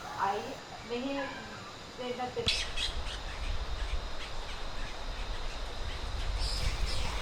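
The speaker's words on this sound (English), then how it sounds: "The most common bird close to the hotel was the black bulbul." A black bulbul calling in Sinharaja rainforest, Sri Lanka: a few clear, wheezy whistled notes in the opening seconds, followed by a dense chorus of forest birds and insects buzzing steadily in the background.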